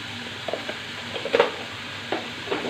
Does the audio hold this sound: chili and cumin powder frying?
yes